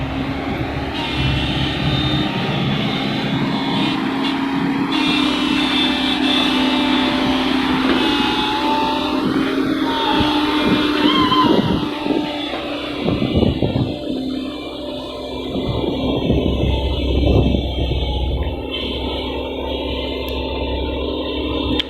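A SANY SY135C excavator engine runs steadily close by with a deep, continuous drone and strong low rumble, its pitch and load shifting slightly partway through.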